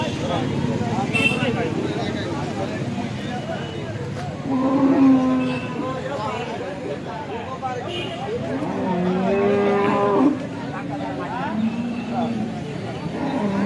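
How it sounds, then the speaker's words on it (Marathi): A cow moos twice in long low calls at a busy cattle market, over the murmur of people talking nearby and outdoor background noise. "हे व्यापारी बांधवांची गाय आहे"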